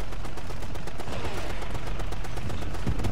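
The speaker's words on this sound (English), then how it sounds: "Stop shooting." Rapid gunfire in the video game Ghost Recon: Future Soldier, a dense, continuous stream of loud shots and bursts that hold steady throughout with no pause.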